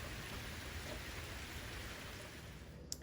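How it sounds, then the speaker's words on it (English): Rain falling outside on a spring day, a faint, steady hiss of drops heard alone at a distance. "right now it is raining and it is such a beautiful,"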